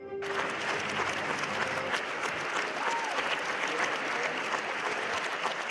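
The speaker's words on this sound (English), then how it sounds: "The audience was silent, but then they burst into applause." A theater audience bursts into dense, sustained applause after the first act of a ballet performance, a loud, steady wash of clapping that fills the room from start to finish.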